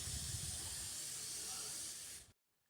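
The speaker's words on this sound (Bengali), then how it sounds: "অ্যাড করে কিছুক্ষণ নাড়তে থাকবো, মানে ভেজে নেবো আর কি চালটাকে" Soaked rice with chopped onion frying in ghee and oil in a pot, a loud steady sizzling hiss close up that cuts off abruptly near the end.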